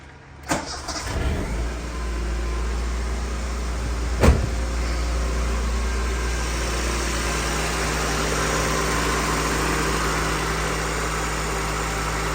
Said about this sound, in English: I'll give you a little quick sample for you guys to know what it does sound like